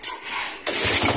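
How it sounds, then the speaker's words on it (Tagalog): A motorcycle engine cranks briefly, pauses, then catches and settles into a rough, close, pulsing idle. "Andarin ko muna itong motor ko guys."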